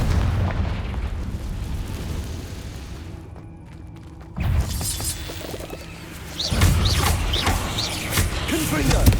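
Confringo fire spell blasts in Hogwarts Legacy, heavy booming explosions and crackling impacts amid loud combat noise, with a brief quieter lull before the rumbling bursts return stronger.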